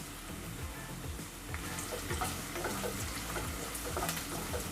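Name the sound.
onion and garlic sautéing in oil for bottle gourd kootu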